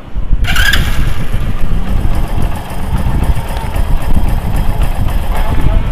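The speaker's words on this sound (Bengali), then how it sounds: "ইঞ্জিনটা আমাদের স্টার্টে আছে, দেখেন ইঞ্জিনের কত সুন্দর সাউন্ড" A Hero Splendor Pro motorcycle engine runs steadily up close after a brief start, a loud continuous rumbling idle with slight throbbing, and someone talks over it.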